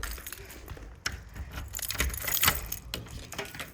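A son's house keys jangle close by in a few sharp metallic clinks and shakes, the loudest bursts near the middle, with no talking.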